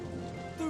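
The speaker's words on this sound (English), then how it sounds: "Finally, the rain they longed for arrived." Steady rain falling over parched, sun-baked land, a dense even patter that holds through the short moment and swells slightly louder near the end, with no voices.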